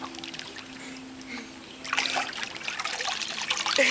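Water trickles and splashes nearby in a pool, starting faint then growing louder and busier over a few seconds, with no one speaking.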